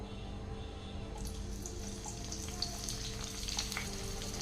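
A steady oily sizzle as cut, deseeded large capsicum fries in a pan for a gravy. The hiss brightens partway through, with small crackles and faint stirring. No one speaks.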